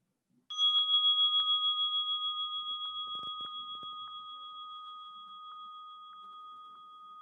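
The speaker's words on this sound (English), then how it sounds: "as the gong fades" A meditation gong is struck once, ringing out with a bright sustained tone and long steady decay, with a few soft low thumps partway through the fade.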